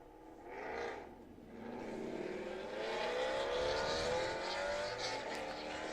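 Chevrolet Camaro race cars accelerate at Thunderhill race track, their engines rising in a sustained, moderately distant roar with climbing pitch sweeps as they pull away.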